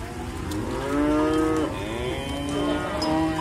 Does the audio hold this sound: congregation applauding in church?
no